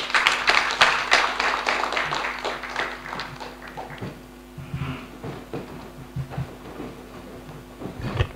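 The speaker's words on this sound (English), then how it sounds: "Let's please welcome him with a round of applause" A workshop audience at the Ghana Parliament applauds a keynote speaker, a loud, dense burst of clapping that tapers off over several seconds into scattered claps, chair shuffles and small knocks in the room.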